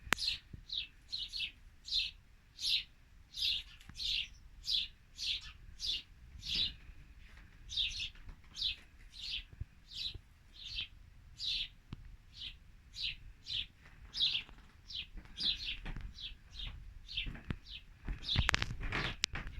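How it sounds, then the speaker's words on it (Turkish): Small birds chirp from their nest in a quick, steady series of high tweets, close and fairly soft, continuing throughout with a brief flurry at the end. "Kuşlar yuva yapmış cik cik bağırıyorlar."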